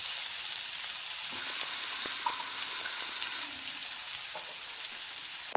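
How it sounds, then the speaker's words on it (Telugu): Chicken pieces fry in oil over a low flame, a steady even sizzle running throughout with a few faint clicks, close and moderately loud, no voices. "ఇంకొక వైపు కూడా లో ఫ్లేమ్ మీద బాగా ఎర్రగా కాలేంత వరకు ఫ్రై చేసుకోవాలి"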